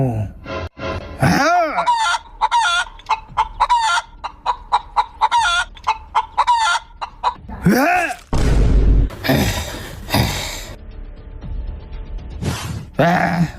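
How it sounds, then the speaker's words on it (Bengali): A chicken clucks and squawks in loud, close bursts, with rapid rhythmic clucking runs, several agitated crow-like cries and some flapping commotion between calls. "মুরগি মুরগিটারে এখন আমি কাটমু"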